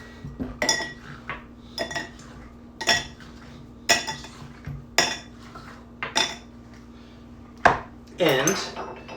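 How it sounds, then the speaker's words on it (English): Ice in a mixing glass is stirred for a martini. A steady run of sharp metallic and glassy clinks repeats roughly once a second and sounds close and fairly loud, with a quick swirl of jostling ice near the end. "And we're going to stir. The stirring is going to get it real cold"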